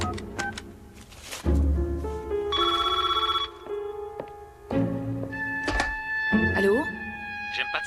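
A telephone rings in bursts of bright electronic trills with a thunk and scattered household clatter between them, and a voice answers close by.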